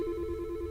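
Telephone on a call-in program rings with a steady sustained tone, a short continuous burst heard alone at moderate level.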